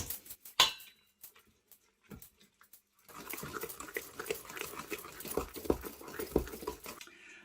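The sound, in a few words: mixing cake batter ingredients in a bowl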